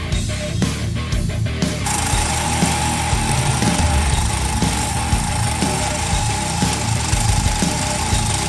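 Loud, continuous grinding of metal being cut for an exhaust hanger, running steadily after a few short opening bursts.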